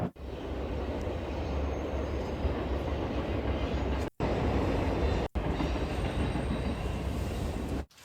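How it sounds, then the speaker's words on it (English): A train rumbles past with continuous heavy rolling noise and rail clatter, broken briefly by a couple of abrupt gaps, otherwise steady and loud throughout. "Train going by."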